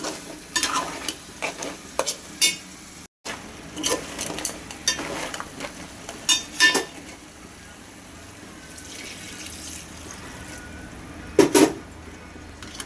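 A spoon stirs crab curry in a pot after water has been added, giving intermittent scraping and sloshing strokes in irregular bursts over soft background sizzle, with a quieter pause midway and a sharp clatter near the end.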